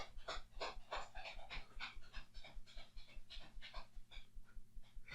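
A happy dog panting and shuffling inside a plastic cage, quick rhythmic breaths heard up close with soft scuffing of paws on the plastic floor, easing slightly toward the end.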